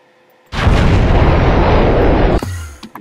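Missile explosion in the Minecraft Voltz mod: a loud, sudden boom with a long roaring rumble that sustains for about two seconds, then cuts off abruptly into a few faint trailing sounds.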